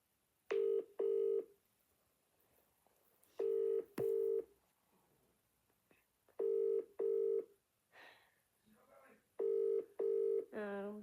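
Telephone keypad tones beep out in crisp paired bursts while a call is dialed, four separate pairs spread evenly with quiet gaps between them, followed by a brief voice at the very end.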